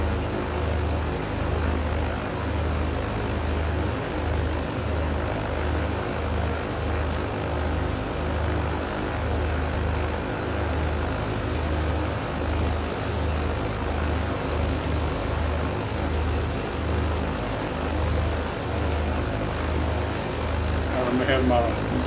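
Twin piston engines of a Britten Norman BN-2 Islander in Microsoft Flight Simulator drone in a steady, loud, continuous hum with a pulsing propeller beat, unchanging over a long stretch above New Orleans.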